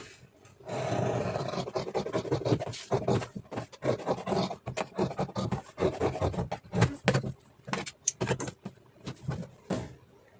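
Scissors cutting through blouse fabric on a tailoring table, a close run of rasping, scratchy snips and rustles in irregular bursts, with no voices.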